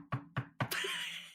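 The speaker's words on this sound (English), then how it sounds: "What's a rapping on our cabin door?" Three firm knocks on a cabin door in an even rhythm, close and distinct, followed by a brief ringing sustained tone.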